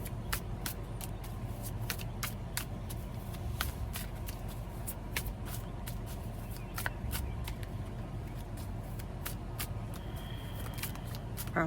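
Cards are shuffled by hand in a steady run of crisp riffling and snapping taps over a constant low background hum, close and fairly quiet, with no talking.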